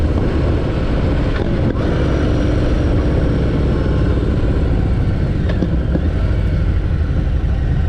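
A 2023 Harley-Davidson Heritage Classic motorcycle engine rumbles steadily on the road during a test ride, a continuous loud drone mixed with wind rush and no clear breaks.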